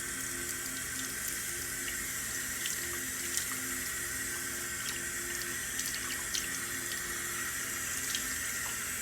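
A bathroom tap runs steadily with warm water for handwashing, a continuous close, even hiss and splash into the sink with no break and no voices.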